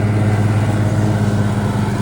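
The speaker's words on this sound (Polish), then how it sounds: "silnik w tym Kawasaki" A Kawasaki engine of roughly twenty horsepower on a riding mower runs steadily and loud up close, a constant low droning hum with no voices.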